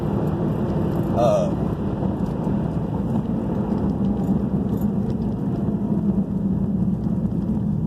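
Mitsubishi Evo X accelerating hard in a roll-on along a busy interstate, a steady loud engine and road drone filling the whole stretch with wind noise over it.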